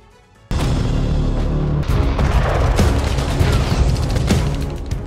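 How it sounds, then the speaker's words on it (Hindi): Heavy booming artillery blasts and rolling gunfire from the Russian attack on Ukraine erupt after a brief quiet, loud and continuous with sharp impacts layered over a deep rumble. "पुतिन ने बम दागे, तोप का मुंह खोल दिया, ये पहला प्लान था।"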